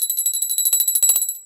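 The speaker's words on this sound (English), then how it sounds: "Take a brass bell used in puja room and ring the bell." Brass puja bell rung rapidly, its bright metallic clangs repeating about every tenth of a second in a fast steady rattle, then fading out at the end.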